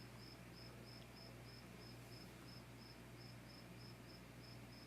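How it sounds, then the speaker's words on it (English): Crickets chirp faintly in a steady, even pulsing pattern throughout, under a constant low background hiss with no voices. "There are crickets in the background."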